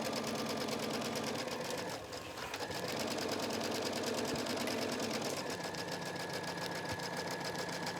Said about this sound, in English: And I'm going to sew right down this line that I marked.